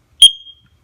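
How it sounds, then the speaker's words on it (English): One short, piercing, high-pitched electronic beep from a carbon monoxide alarm rated at 85 decibels, loud and close, with silence around it. "it has a very loud audible alarm also of 85 decibels."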